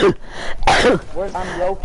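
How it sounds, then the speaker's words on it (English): A single sharp sneeze bursts out close to the mic, surrounded by a person's casual speech before and after. "No, I'm sneezing."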